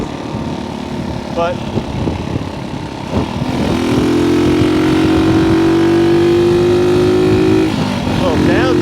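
A motorcycle engine revs hard at high speed on the road, its loud droning pitch climbing steadily and then dropping near the end, with wind rush and a rider speaking briefly over it.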